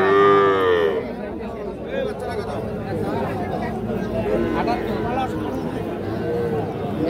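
A calf lets out a loud, close moo at the start amid the busy chatter of a crowded cattle market at Ambari haat, with people talking throughout.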